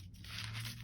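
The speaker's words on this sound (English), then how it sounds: "So I just took my scissors" Scissors trimming the edge of a hand-cut paper gift bag, a short, close papery tearing and crinkling rasp with no talking.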